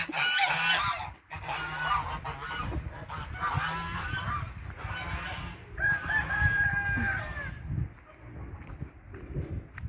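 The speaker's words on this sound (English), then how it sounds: "There's our geese. Anything goes on, they come out and want to make their noise and stuff." Geese honk loudly and almost without pause, a close, raucous flock with squawks and clucking calls, heard on a property with old trucks and no talk.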